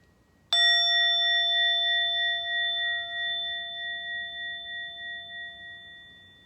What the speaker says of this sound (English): see if you can hear it as a soft bell sound or a loud or hard bell sound